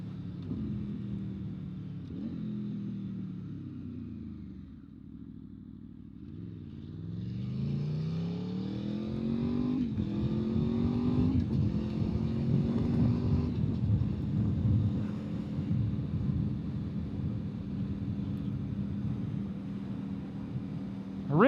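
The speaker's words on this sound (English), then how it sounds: "so that way you guys can just listen to the bike" A V4 motorcycle ridden on the road, its engine note rising and falling through repeated gear changes, then settling into a sustained, droning cruise with wind rush, heard close and loud.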